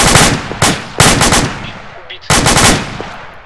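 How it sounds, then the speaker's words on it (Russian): A machine gun fires from a bunker in the ArmA 2 video game in three loud, close bursts of rapid shots, with short pauses between them and fading echoes. "Поворачивается пулемет, короче, в этом бункере."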